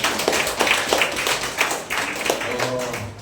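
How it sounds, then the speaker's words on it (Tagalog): A church congregation claps in scattered, uneven bursts, a loose rhythm of hand claps ringing through the hall, with some voices mixed in underneath. "Pumalakpak po yung mga matatalino."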